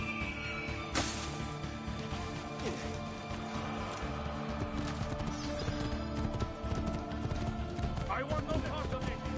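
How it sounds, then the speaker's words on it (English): A horse gallops in Assassin's Creed 2 as it races back to the start, hooves clopping in a steady rhythm under a dense layer of game music and effects, with a brief whinny. "we're racing back to the start with the horse"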